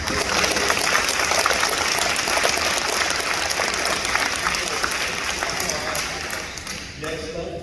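Students at a junior high awards ceremony are met with a long, even round of applause from the audience that stays full throughout and tapers a little at the end, with light murmuring underneath.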